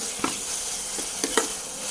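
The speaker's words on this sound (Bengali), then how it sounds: "ভাজা মশলা হয়ে গেছে আদা বাটা দিয়ে দিলাম একটু" Spices fry in a pan with ginger paste, giving a steady hissing sizzle with a few light clicks and taps from a spoon, close and continuous.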